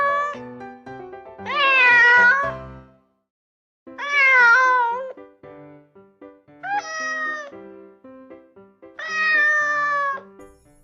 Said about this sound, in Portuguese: Esse é o gatinho. Que gracinha! Veja só, esse é o som que ele faz.